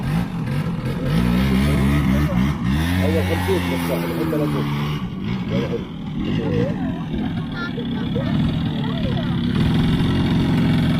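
Motorbikes ride on a beach field at Dahban beach near Jeddah, a steady loud engine drone with rising and falling revving tones running throughout, mixed with voices talking nearby.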